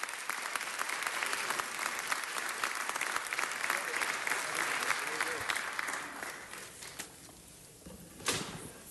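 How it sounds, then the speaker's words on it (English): Council chamber audience applauding Mr. Curran Price at a city council meeting, steady dense clapping for about seven seconds that thins out and fades, with a few late claps. "Give Mr. Price a round of applause."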